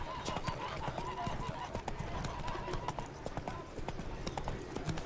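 Hooves clop in a steady galloping rhythm as the horse Roach canters through The Witcher 3, with game ambience and talk running underneath.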